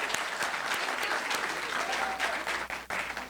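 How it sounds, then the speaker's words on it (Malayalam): Audience claps loudly and steadily for a children's nativity skit, a dense wash of applause from a crowd that holds for a few seconds with faint voices mixed in. "അവർക്ക് നന്നായിട്ട് ഒരു കയ്യടി കൊടുത്ത് പ്രോത്സാഹിപ്പിച്ചുകൂടാ?"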